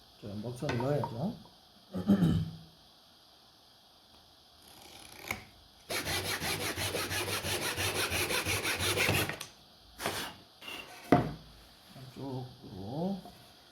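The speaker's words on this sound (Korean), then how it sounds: "그다음에 연기 톱질을 하면 되는데" A hand saw cuts wood in quick, steady back-and-forth strokes for a few seconds, with scattered knocks and scraping before and after.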